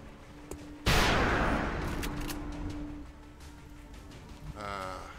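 Gunfire in the video game XCOM Long War: one loud, sharp burst strikes and decays over a couple of seconds, followed by lingering ambient game sound and a brief electronic tone near the end.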